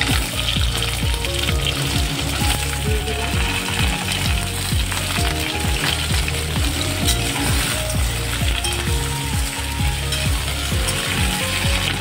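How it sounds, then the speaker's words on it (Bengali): Potatoes for aloo dum fry in oil in a pan with a loud, dense sizzle that runs steadily from start to finish. A rapid low rattling and clacking continues underneath it, and no voices are heard. "আলুর দমটা বানাচ্ছি। আলুটা দিয়ে দেবো,"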